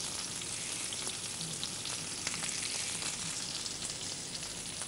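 Onions frying in oil in a pan, a steady, dense sizzle that crackles on without pause, close and fairly loud throughout.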